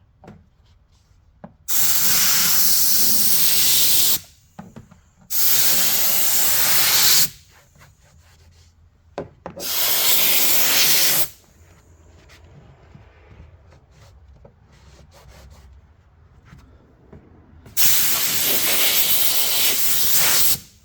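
A steam cleaner hisses in four long loud bursts, each a few seconds of broad spraying steam, used on a Jeep ZJ with quieter handling noises between.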